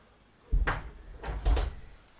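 A door is opened for a pet cat indoors, giving two dull wooden knocks and thuds about a second apart, close by and moderately loud with no talking.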